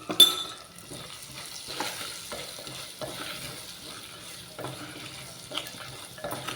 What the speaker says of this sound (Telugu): అన్నీ మిక్స్ అయ్యే వరకు బాగా వేయించుకోవాలండి ఇవన్నీ